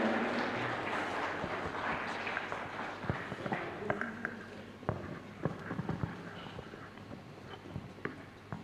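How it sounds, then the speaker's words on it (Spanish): Congregation in a church breaking into loud, sustained applause with scattered sharp claps, fading slightly over several seconds. "Dale un fuerte aplauso, querido hermano."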